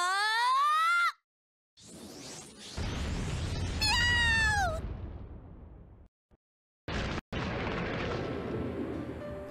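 A cat-themed attack in Disgaea 3, with high rising and falling meows mixed with heavy booming impacts and rumbling blasts, broken by brief silences.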